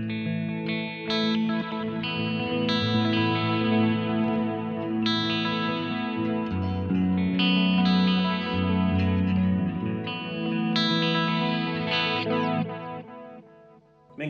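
Electric guitar run through a Halo pedal preset on a GH Systems pedalboard, playing sustained chords and arpeggiated notes thick with modulation and ambient effect, loud and continuous before fading near the end.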